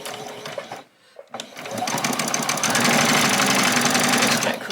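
A sewing machine runs continuously and loud, stitching a small doll's dress, its steady mechanical whir following a brief pause and a few starting clicks.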